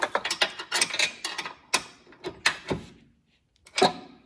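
Towbar bolts being tightened on a Range Rover Sport L494 during a Hayman Reese 3500 kg towbar install, heard as a run of close, sharp ratcheting clicks in quick bursts with short pauses and a final few clicks.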